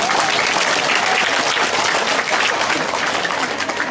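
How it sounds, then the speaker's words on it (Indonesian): A congregation at a church closing service breaks into loud, sustained applause, dense clapping holding steady throughout with no speech over it. "Boleh tepuk tangan silakan."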